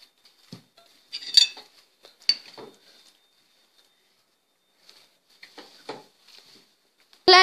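Homemade meatball mixture being mixed by hand with salt and parsley in a bowl, giving soft scattered clinks and scrapes of a utensil against dishware with quiet gaps between.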